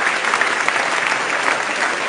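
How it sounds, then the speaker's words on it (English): Audience applause fills a live show hall after three volunteers help with a mental-math act, a dense, steady wash of many hands clapping at once, close and loud, with no talking over it. "let's give all 3 of these people a nice round of applause"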